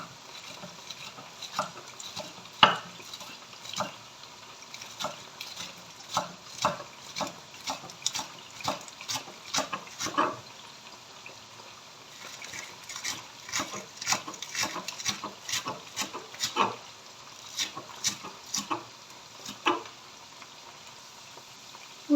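Zucchini frying in a pan, a soft sizzle beneath frequent sharp knife chops on a board as green onion and parsley are cut, taps irregular and close.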